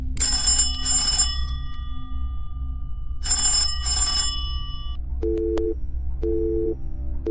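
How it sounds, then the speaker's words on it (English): An old-style telephone bell rings in two bursts, pauses, then rings twice again, followed by short buzzing busy-signal tones. "Ringing Murray Hill 40098."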